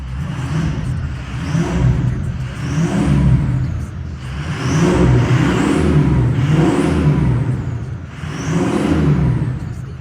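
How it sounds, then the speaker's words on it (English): Ford F250 Powerstroke 6.0L diesel truck engine revving repeatedly, loud and close, with rising turbo whine and whirring swelling and falling in several waves, no talk. "Love that turbine sound."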